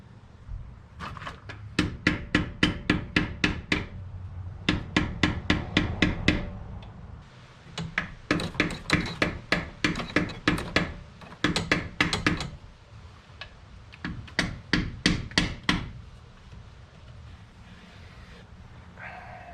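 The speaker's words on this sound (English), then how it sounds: "Took some hammering and beating, but we got her out of there" Rapid hammer blows driving out a seal from a blown engine in a GMC Sierra 1500 come in bursts of a dozen or so sharp strikes, separated by short pauses, loud and close.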